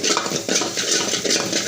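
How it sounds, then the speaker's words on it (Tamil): A spoon scrapes and clanks against a wok while egg is stirred for a pasta dish, with rapid, close metallic strokes throughout. "வடசட்டியில் முட்டையை உடச்சி ஊற்றி கொஞ்சம் கிளறி எடுத்துக்கலாம்"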